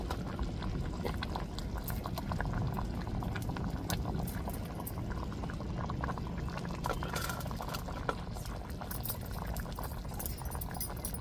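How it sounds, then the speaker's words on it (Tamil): Prawn curry bubbles and simmers in a pot, a quiet continuous crackle of popping bubbles with small irregular splats throughout. "இது நல்லா கொதிக்கட்டுங்க."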